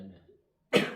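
A single sharp, close cough from an older man bursts out after a brief silence during a quiet prayer session, with a short raspy tail.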